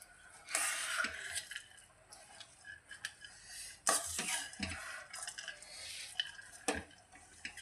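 A spoon stirs a dry fruit mixture in a pan, scraping and clinking against the metal in uneven strokes with occasional light sizzling. The sound is close and moderately loud, and no one speaks.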